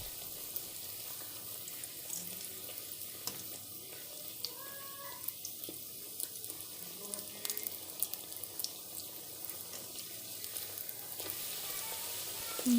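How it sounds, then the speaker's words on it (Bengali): Pea-filled kachori bread fries in hot oil with a soft, steady crackle and sizzle that continues throughout, fairly quiet and without speech. "আমি এবার একে একে সব ভেজে নেব।"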